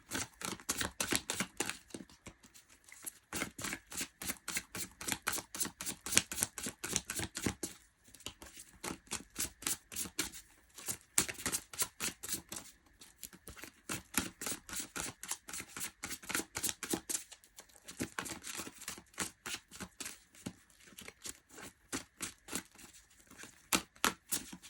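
Tarot cards being shuffled by hand, a steady run of quick, crisp riffling flutters close up, continuing almost without pause through the whole stretch with brief gaps.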